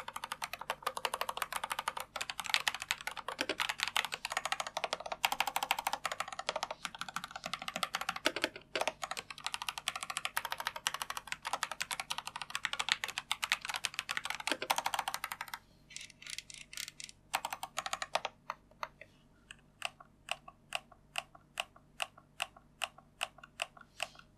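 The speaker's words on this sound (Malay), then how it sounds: "Ini typing test Kyle Red Switch Machinic KT65 wireless mechanical keyboard." Typing on a Machenike wireless, hot-swappable mechanical keyboard with red switches: rapid, continuous close-up key clatter, thinning toward the end into slower, evenly spaced single keystrokes.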